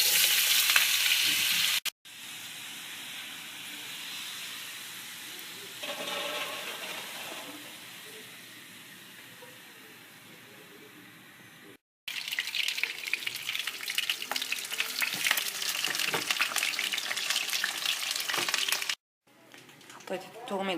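Eggplant rolls stuffed with finely chopped potato frying in hot oil, a steady broadband sizzle that drops away twice and returns louder and crackling, with a voice talking over parts of it.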